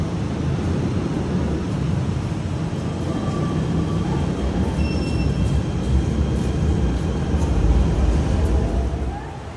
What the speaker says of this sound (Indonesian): Go by MRT ya, Jo?